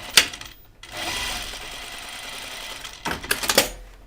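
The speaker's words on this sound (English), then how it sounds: "now I'm going to continue this top stitching here where I left off and go to the side seam" A home sewing machine runs a burst of top stitching along the side seam of a 1940s New England dress. Sharp clicks come at the start and end, and a steady mechanical whir plays alone close by.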